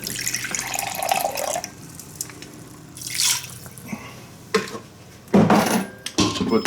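Water from a tap runs and drips into an Instant Pot holding a pork roast, a steady trickle broken by clunks and knocks of the pot and dishes near a kitchen sink.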